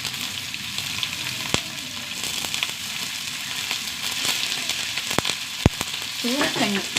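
Fish frying with curry leaves in a pan, a loud continuous sizzle broken by sharp spluttering pops and crackles, with a faint clink of a utensil near the end.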